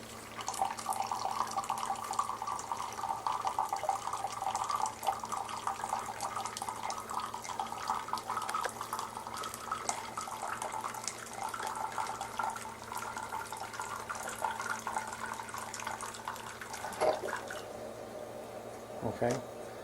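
A Keurig K70 coffee maker brews, with water streaming and trickling steadily into a cup under a low electrical hum, close and fairly quiet.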